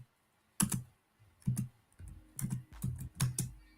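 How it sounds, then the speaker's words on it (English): Typing on a computer keyboard comes through as irregular clusters of sharp clicks in bursts, close and fairly quiet, with short pauses between runs and no talking. "mute that when you're typing"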